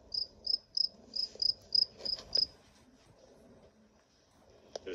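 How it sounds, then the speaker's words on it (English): Cricket chirping in a quick, steady run of eight high-pitched pulses, then stopping, leaving faint background noise with a brief click near the end. "This is the sound a cricket makes."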